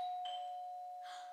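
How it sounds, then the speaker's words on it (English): A doorbell chimes in a quiet room, a sustained electronic tone with a second higher note joining, then a brighter ring near the end. "Did you hear that? It was the doorbell."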